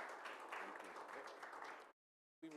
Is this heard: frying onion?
no